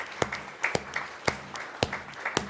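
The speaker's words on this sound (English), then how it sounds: "Give him a round of applause." Scattered, sparse clapping from a small audience at a town board meeting, a handful of distinct sharp claps spread irregularly, fairly quiet and thin in the room.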